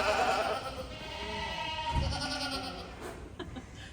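Many milk goats bleat over and over inside a large shed holding about a thousand animals, overlapping calls near and far forming a constant noisy chorus, with some clanking and faint background activity.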